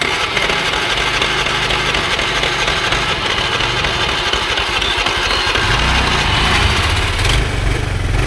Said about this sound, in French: Écoute, ça c'est un scooter de compétition.